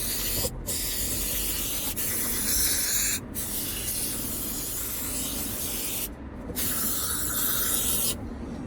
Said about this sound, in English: a good tin and a half or so of carb cleaner, adding some CFC to the environment